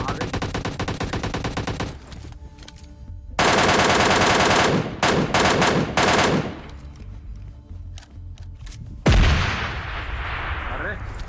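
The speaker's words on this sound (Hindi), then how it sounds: "नीचे की तरफ से भी गन शॉट्स के आवाज आ रहे थे।" Bursts of automatic gunfire and single shots from PUBG Mobile Lite gameplay, loud and clustered, with a heavy blast near the end and scattered in-game sounds between volleys.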